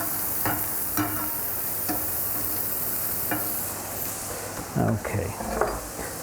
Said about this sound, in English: Let's get the bacon in there then, and let's start frying this up.